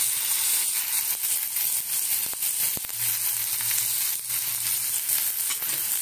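Cashews and raisins sizzling in hot fat for khichuri, a steady close frying hiss that holds throughout with a few soft stirring clicks and no talk.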